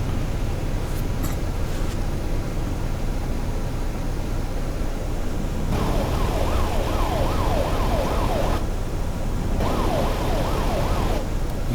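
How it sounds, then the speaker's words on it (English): Wailing police sirens in American Truck Simulator sweep up and down in repeated bursts over a steady rumble of traffic, with a brief pause between the wails. "ambient sounds from like cop cars nearby with their sirens on"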